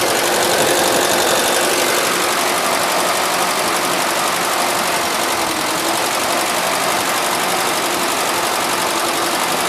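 A small garden tractor engine runs at a steady idle, a loud continuous mechanical drone with rattling vibration and no voices.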